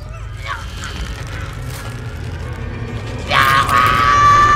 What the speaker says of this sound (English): she begins screaming